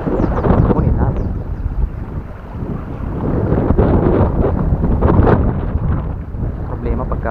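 Strong wind buffets the microphone in a constant roar while fishing, with a person talking intermittently underneath.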